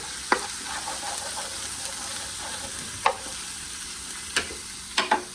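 Garlic, onion, thyme, pepper and scallions cooking down in a pan for Guyanese-style stew chicken, a steady low sizzle broken by a few sharp utensil clicks and stirs, no talking.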